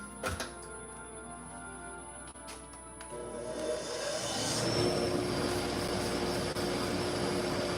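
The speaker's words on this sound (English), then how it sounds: "I got to turn the dust collector on" A loud dust collector whirs up partway through and settles into a steady, broad roaring hum that fills the space, with no talking.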